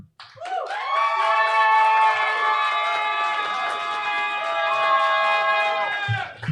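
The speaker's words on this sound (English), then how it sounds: "Keep that round of applause going for Alex." An audience at a slam poetry event cheers and applauds for a poet, loud and sustained for several seconds, with high, drawn-out whoops and screams held above a steady wash of clapping.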